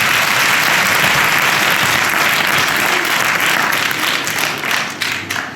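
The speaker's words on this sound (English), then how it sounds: "So give that a big clap," Big, loud applause from a crowd at a school's 30-year anniversary celebration, continuous dense clapping that tapers slightly near the end.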